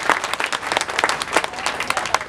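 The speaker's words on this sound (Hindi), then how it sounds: "पूर्वांचल की आन बान शान आदरणीय महाबल मिश्रा जी, जोरदार तालियों से स्वागत करें" A crowd at a Delhi municipal election rally claps loudly to welcome politician Mahabal Mishra, brisk, uneven hand claps close by with a murmur of voices mixed in.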